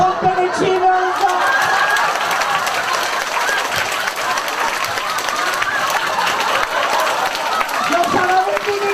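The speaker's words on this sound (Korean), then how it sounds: "손뼉을 치면서" A seminar audience claps hands together in a continuous, busy patter that lasts throughout, with scattered voices and laughter mixed into the crowd noise.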